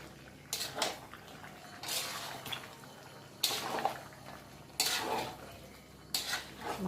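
Mutton being stirred with fried potatoes in a pot, with a few distinct bursts of metal spoon scraping and clattering against the pan over a low, steady background.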